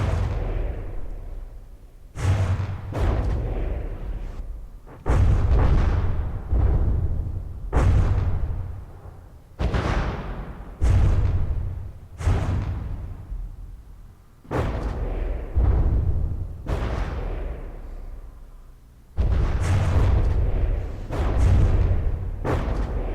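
Torpedo explosions in the game From the Depths rock a ship being sunk, the Empress of Ireland, as a series of about ten deep, heavy booms that each roll away before the next strikes.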